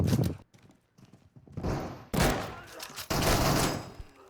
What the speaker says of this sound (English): there's 3 or 4 players around me and just turns into a really tense and crazy firefight